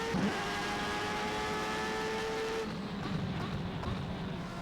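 A Jordan 191 Formula One car in the rFactor 2 racing game accelerates up the hill at Imola, a high whining engine note climbing steadily before a gear change drops it lower, fairly quiet and steady with no talking.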